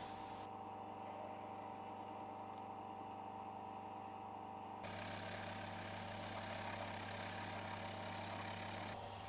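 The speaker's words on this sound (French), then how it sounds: "C'est très agréable de jouer avec ce petit tour des années 30." A small 1930s lathe runs with a steady mechanical hum and whir, stepping up to a slightly louder, brighter drone partway through, continuous and close with no voices.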